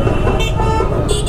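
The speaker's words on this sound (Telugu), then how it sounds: "దారి లేదు కానీ హారన్ కొట్టాలి" Vehicle horns toot in short bursts amid loud, dense traffic rumble on a bridge, two brief honks standing out close by over the continuous road noise.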